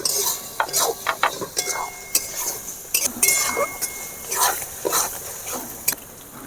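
Capsicum, tomato and cumin powder being stirred and fried in a pan, with a steady sizzle under repeated scraping and clinking of a spoon against the pan, close and fairly loud.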